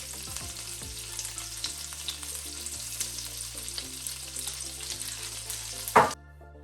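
Curry leaves dropped into a hot pan while cooking creamy tiger prawns crackle and sizzle continuously, with a sharp louder flare of spitting near the end before the sound cuts off.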